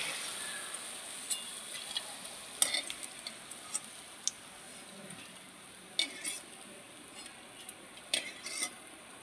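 Boondi batter drops frying in hot oil, a faint, steady sizzle with scattered light clinks and taps from cookware.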